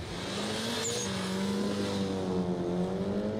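A tuned Mitsubishi Lancer Evo VI or Colt CZT race car launches hard, its engine note climbing steadily in pitch as it pulls away, loud and sustained with no talking.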